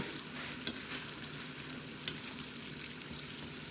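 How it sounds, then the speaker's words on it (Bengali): Oil pitha rice cakes fry in hot oil, giving a soft, steady sizzle with a few faint pops and crackles, fairly quiet and without talking. "তেলের পিঠে তৈরি করতে গেলে একটু সময় লাগে, হাতে সময় নিয়েই এইগুলো করব।"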